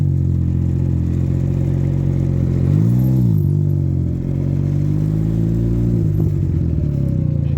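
A Can-Am Ryker fitted with a Dynojet Throttle Commander is run at full throttle, its engine holding a loud, steady drone with a brief rising-and-falling rev swell midway, close and continuous throughout.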